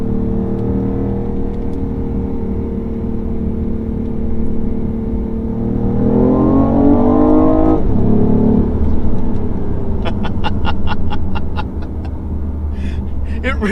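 Modified BMW i8 exhaust in comfort mode with hold state of charge enabled, a steady engine drone that swells into a rising rev around the middle, then drops back, with a burst of rapid ticking or crackle near the end.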